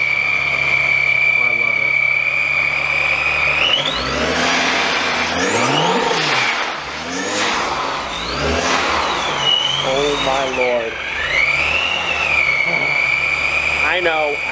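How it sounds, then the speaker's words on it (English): A supercharged Volkswagen GTI VR6 engine revs loudly and repeatedly, its high supercharger whine rising and falling in pitch, with voices talking over it. "Especially when it revs up and you hear that like that crazy whoosh."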